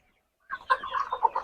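A restless chicken clucks in a quick run of close, fairly loud calls that start abruptly after a short silence, with a faint low rustle beneath that may be flapping.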